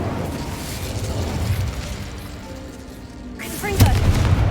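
The Incendio fire spell is cast in the video game Hogwarts Legacy, with a rushing, crackling whoosh of flame and a burst near the end over a steady game rumble, with a voice briefly underneath.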